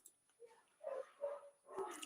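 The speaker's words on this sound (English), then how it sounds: "Please excuse the dogs in the background." Dogs bark in short, muffled bursts in the background, faint and far off, with a few yips in between and no talk over them.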